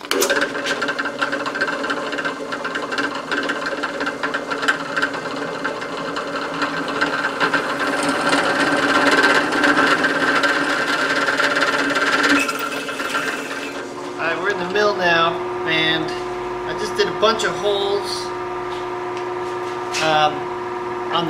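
A drill press grinds steadily through metal stock for a steam engine expansion link, with a sustained whirring tone, then winds down into rattling and scraping as the bit finishes.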